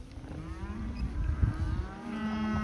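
A red cow out on a ranch pasture gives a long, low moo that rises and holds, fairly near and moderately loud, over faint outdoor background noise.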